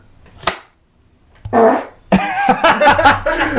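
A short, sharp fart breaks the quiet during a podcast recording, followed by a longer rasping one, then close voices talking and laughing.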